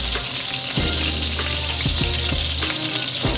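Food sautés in a hot pan with a loud, continuous sizzle close by, broken by several sharp scrapes and clanks of stirring, with no talking.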